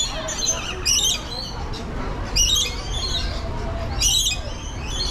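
Lory parrots at a feeding area in Busch Gardens Tampa give shrill squawks in a few sharp bursts, close by, over a steady background of crowd noise.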